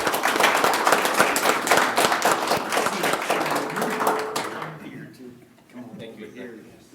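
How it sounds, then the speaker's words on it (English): Applause from attendees at a county board meeting honoring five-year service award recipients, loud, dense clapping filling the room for about four seconds before tapering off into scattered claps and murmuring. "Please join me in a round of applause for our 5-year recipients."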